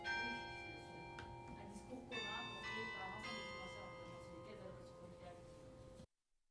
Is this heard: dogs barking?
no